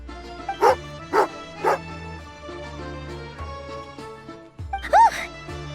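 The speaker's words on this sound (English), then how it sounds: "Angry doggy." A dog in Genshin Impact barks angrily in three sharp, close yaps, then a pause over a low game music bed, followed by a louder final bark-growl.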